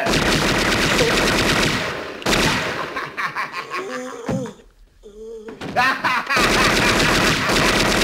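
Fireworks set off in a movie scene, crackling in dense rapid bursts like gunfire, loud and close, breaking off into a quieter stretch with a voice and laughter before the loud crackle returns.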